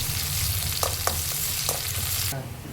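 Mustard seeds and onion fry in hot oil for a Kerala-style beef curry, a loud, close, continuous sizzle with a few sharp crackles that cuts off abruptly near the end.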